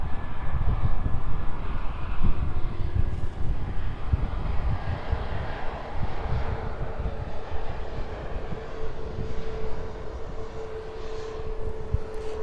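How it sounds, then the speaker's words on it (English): A Boeing 737 MAX arriving from Tenerife rolls down the runway with a loud, steady roar of jet engines and rumble that continues throughout, close and sustained, with a faint tonal whine rising over it. "First aircraft arriving in with us though this afternoon, the Chewy in from Tenerife, using all the runway available to it this afternoon."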